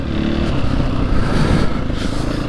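A Husqvarna 501 FE fuel-injected motorcycle engine idles close by with no throttle, a loud, steady low rumble with slight unevenness over a couple of seconds.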